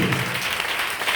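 A congregation claps together in a short, dense burst of applause, steady throughout.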